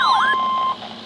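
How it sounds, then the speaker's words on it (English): A NOAA weather radio warning alarm opens with a brief warbling sweep, then settles into a loud, steady single tone that cuts off after about three quarters of a second, leaving a faint hum. "The attention signals you just heard will automatically activate special receivers to warn of the impending hazard"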